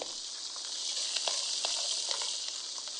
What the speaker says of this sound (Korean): 우와, 지글지글, 지글지글, 지글지글.